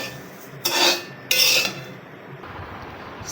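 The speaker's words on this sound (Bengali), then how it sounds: "সিমাই ভাজা হচ্ছে।" Vermicelli frying in ghee in a pan for zarda semai, heard as two brief bursts of scraping and stirring against the pan, followed by a faint, steady sizzle with no talking.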